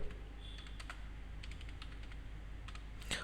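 Rapid keystrokes rattle on a computer keyboard while a narration is entered in Tally ERP 9, an irregular run of crisp clicks with brief pauses and a louder burst of keys near the end.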